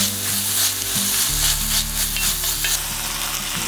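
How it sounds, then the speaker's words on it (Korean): Minced garlic and minced onion stir-frying in oil in a hot pot, a steady loud sizzle with scraping stirring sounds throughout, close up and without voices. "달궈진 냄비에 오일을 두르고 다진 마늘, 다진 양파를 볶아주세요"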